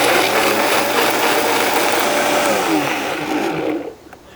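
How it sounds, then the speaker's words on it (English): A blender roars loudly as it purees a taco marinade mixture until smooth, a steady whirring grind that winds down and cuts off near the end. "Turn the blender on and blend this mixture until it's an absolutely smooth"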